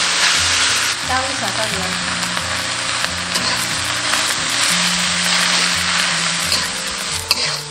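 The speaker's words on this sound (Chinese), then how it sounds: "锅中倒少许食用油，下入芥菜翻炒" Mustard greens stir-fry in a little cooking oil in a wok: steady, close sizzling with scraping and tossing from the spatula, while someone speaks briefly over the frying.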